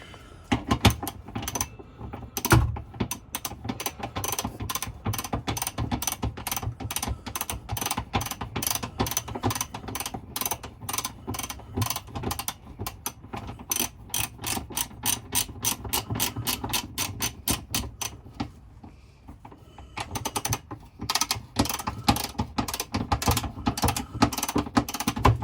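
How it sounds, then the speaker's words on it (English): A ratchet tightens M8 bolts holding a spare wheel carrier under a Fiat Ducato van, just above the back axle; long runs of rapid, crisp clicks repeat steadily and loudly with short pauses, close by and alone. "Get a ratchet on it."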